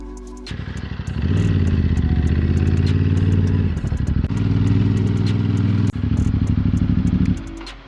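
A motorcycle engine rides uphill toward Doi Pang Khon, running steady and close with a mid-pitched drone that briefly eases and returns, plus light clattering ticks throughout and no talk.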